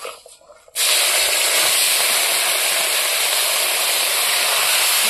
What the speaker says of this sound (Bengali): তেল গরম হয়ে গেছে মাছটা মাখা হয়ে গেছে এখন আমি মাছটা দিয়ে দেব